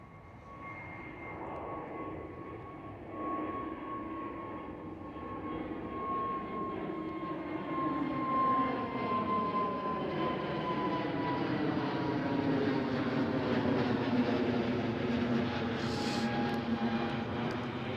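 An airliner landing at Schiphol Airport makes a loud, sustained jet roar that builds slowly and holds steady over the whole stretch, with whining engine tones sliding gradually downward.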